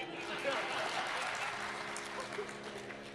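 Audience applause at a Hindi Ramayana song-and-discourse gathering, a steady broadband wash of many hands clapping throughout, fairly close and continuous with no voice rising above it.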